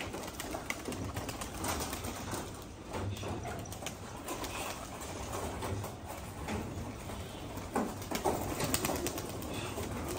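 Pigeons at a Giribaz pigeon farm coo steadily in the background, with occasional wing flaps and rustles, a busy, continuous flock sound at moderate distance.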